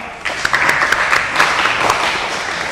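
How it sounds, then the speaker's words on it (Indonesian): Students clapping in an automotive practice classroom after a roller measurement exercise, a steady mid-level patter of many hands sustained for a few seconds, with sharper individual claps poking through. "Tepuk tangan untuk kalian semua."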